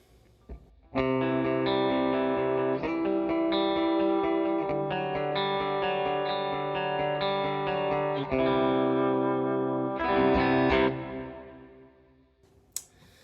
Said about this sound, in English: We'll throw it in front of the amps, and then we'll throw it behind as well.